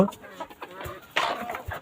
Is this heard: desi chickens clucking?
yes